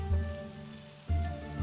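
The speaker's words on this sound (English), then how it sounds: "You can hear rain." Steady rain ambience playing as a background soundtrack during a tabletop fantasy role-playing session, a soft continuous patter under sustained tones and occasional low thumps, with no talking.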